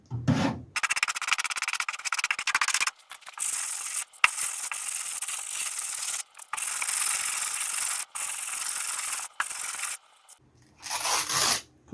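Coarse 80-grit sandpaper rasps across the body panels of a Ford Escort MK1 under restoration, in long loud back-and-forth strokes broken by short pauses, close up.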